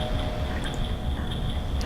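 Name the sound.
waterfall in Zelda: Majora's Mask video game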